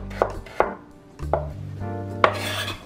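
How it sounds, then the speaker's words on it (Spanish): A knife finely chopping a white onion on a board, with four distinct, sharp chops spaced irregularly, close and fairly loud, and no voices. "Y por último vamos a picar esta cebolla blanca, muy finita."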